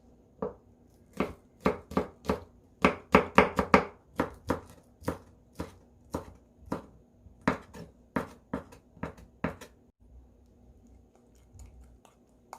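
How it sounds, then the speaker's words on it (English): A knife chops green onion on a cutting board in a close, quick series of sharp taps, dense in the middle and slowing toward the end before a short quiet stretch. "Also, I'm gonna cut this green onion and add that into the sauce."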